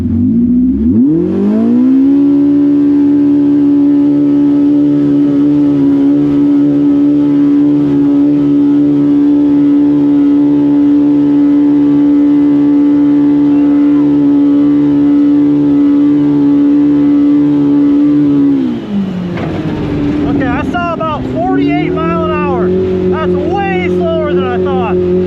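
A loud side-by-side UTV engine with a turbo kit, accelerating uphill, holds a high, steady droning pitch for a long stretch, then revs drop and rise again in choppy bursts near the end.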